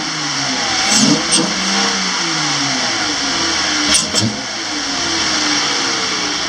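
A 2013 Dodge Challenger SXT 3.6L V6 fitted with a K&N Typhoon cold air intake idles, then is revved in two sharp blips that rise and fall back to a steady idle.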